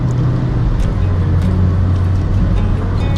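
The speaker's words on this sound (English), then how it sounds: "I'm passing the truck here." A car passes a truck on a road in Medellín, Colombia, heard from inside as a steady, loud engine drone and road rumble throughout, with no voices.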